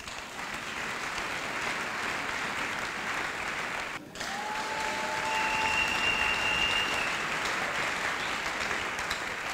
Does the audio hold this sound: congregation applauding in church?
yes